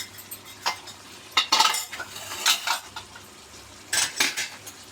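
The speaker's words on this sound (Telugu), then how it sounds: "వేసిన తర్వాత ఒకసారి మొత్తం కలిపేసుకున్నాము" A spoon stirs a green egg khichdi mixture in a metal pan with lemon juice added, giving close, irregular scraping and clinking bursts with quiet gaps between strokes, and no talking.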